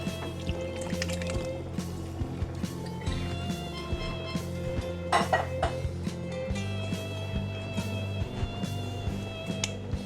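Canned butter beans with their juice go into a chili pot, giving wet sloshing and dripping, scattered clinks of a can and spoon against the pot, and a louder splashy pour midway, close by with no talk.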